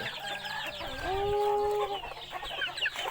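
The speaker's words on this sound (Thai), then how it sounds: "อันนี้เป็นไก่น้อย" Young chickens cluck and chirp nearby in a quiet farmyard, a few short bright calls clustered together with one drawn-out call in the middle, no talking.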